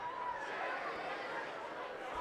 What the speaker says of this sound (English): Pretty good crowd on the Highland student side.